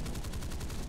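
Rapid burst of Vampire FB.5 jet cannon fire in War Thunder, a fast rhythmic string of shots filling the whole moment.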